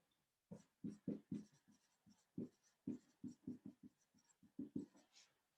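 Marker strokes on a board during a biology lecture, a quick series of short squeaky scratches in uneven bursts, close and fairly quiet, with no talking.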